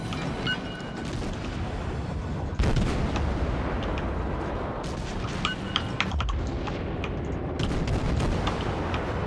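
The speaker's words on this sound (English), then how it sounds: "I'm just annihilating this guy with my HE rounds." Warship guns fire high-explosive rounds during a naval battle in the game World of Warships, a dense, continuous roar of booming salvos and rumble with sharp cracks layered throughout, loud and unbroken.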